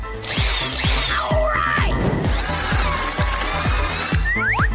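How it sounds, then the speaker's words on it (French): A power drill whirs loudly in repeated short bursts, cutting a hole in a giant chocolate egg, its motor pitch rising and falling as it bites through, with gritty cutting noise between pulses. "Je vais le faire avec une perceuse."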